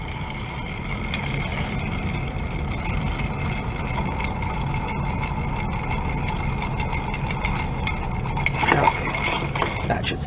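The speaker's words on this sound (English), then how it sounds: "so let's give this a stir for about 10 to 15 seconds." Ice clinks and ticks in a mixing glass as a gin martini is stirred, a faint rhythmic chiming over a low continuous background hum, growing slightly busier toward the end.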